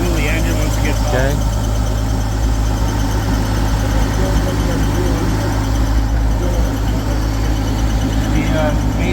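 A 1955 Bombardier wide gauge engine idles steadily and close with a running cooling fan, a continuous low mechanical drone with a faint knocking texture, while people talk over it.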